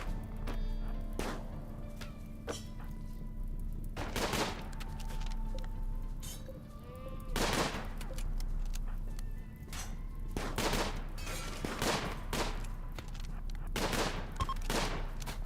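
Repeated bursts of gunfire in a RimWorld tribal colony raid, sharp volleys and rapid shots crackling over a steady low hum, with a few isolated thuds between clusters and no talk.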